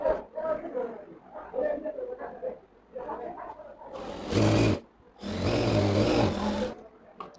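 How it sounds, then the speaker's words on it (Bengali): A sewing machine runs in two bursts while stitching a box pleat on a shirt for a school uniform, each run a steady mechanical whir lasting about a second and then a couple of seconds, following a stretch of talking. "আমি আগে দেখেন এই প্লেটটা সেলাই দিচ্ছি"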